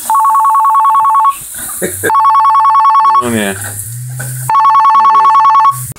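A phone rings in a kitchen where baby octopus is being fried with garlic, a loud repeating electronic ringtone in bursts that stop and resume, with a person speaking briefly between the rings.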